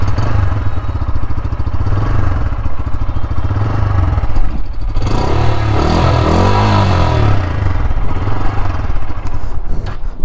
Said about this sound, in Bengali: এই বাইকটার আরেকটা ভালো দিক হচ্ছে এই বাইকটার সাউন্ড।